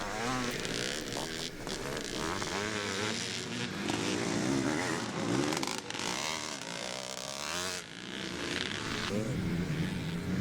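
A classic twinshock racing motorcycle comes along a Scottish circuit, its engine note building under a race commentator's continuous talk and a busy, dense mix of other bikes.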